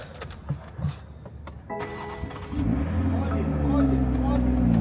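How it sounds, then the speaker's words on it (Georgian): A BMW X3 M40 engine cranks and catches at about 1.7 seconds, then settles into a steady, loud idle that swells slightly. Faint knocks and handling noises come before the start. "ეხლა დავქოქავ მანქანას და ვნახოთ რა იქნება."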